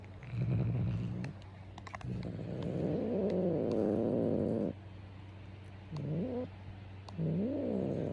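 A cat close by makes drawn-out, wavering meows and low grumbling vocalizations, with a steady hum and occasional clicks in the background.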